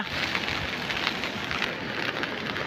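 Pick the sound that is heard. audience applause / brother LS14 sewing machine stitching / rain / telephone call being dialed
rain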